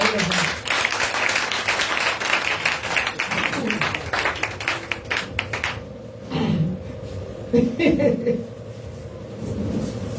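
Congregation clapping at a church praise and worship service, dense applause for about five seconds that thins out, followed by scattered claps and voices talking.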